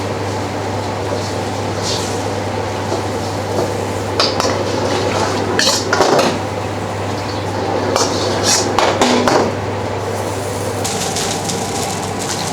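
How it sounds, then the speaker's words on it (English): Running water splashes and gurgles against metal while a wok is scrubbed, with scraping bursts over a constant low hum. "Give the wok a good clean."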